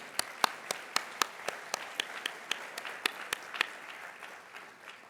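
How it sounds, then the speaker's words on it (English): An audience at a sustainability summit's morning plenary applauds sponsors and exhibitors: a sparse, fairly faint round of distinct claps in a loose rhythm, fading gradually over about five seconds in a large hall. "let's give all of them a round of applause"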